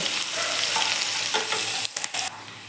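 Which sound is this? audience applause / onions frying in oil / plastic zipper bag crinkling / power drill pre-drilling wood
onions frying in oil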